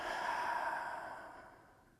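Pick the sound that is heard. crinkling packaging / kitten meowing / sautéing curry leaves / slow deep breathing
slow deep breathing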